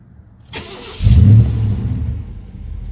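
A 1997 Chevy Silverado pickup with an exhaust issue starts up: a brief click and crank, then the engine catches with a loud low roar and settles into a steady, rumbling idle close by.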